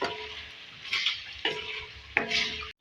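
Karela keema with garam masala cooking in a karahi, with a low frying sizzle broken by three or four scraping bursts as a spoon stirs the mixture close by, then a brief drop to silence at the end.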